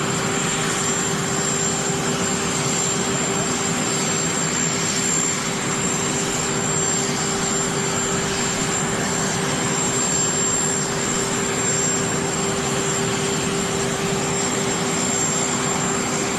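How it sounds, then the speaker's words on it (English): Steady, loud roar of airliner jet engines fills the air as passengers step off a plane, a continuous broadband rush with a thin high whine held throughout and no voices heard. "Take a look at this clip of Trump, Melania, and Barron departing a plane"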